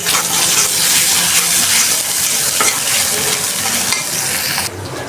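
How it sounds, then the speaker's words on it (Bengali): Whole spices with bay leaf, garam masala, cinnamon and cardamom frying for a chickpea dish, a loud, close, continuous sizzle with stirring scrapes that drops off sharply near the end. "মশলাটা কষাই নিতেছি ছোলা বোনার জন্য।"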